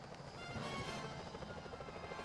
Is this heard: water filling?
no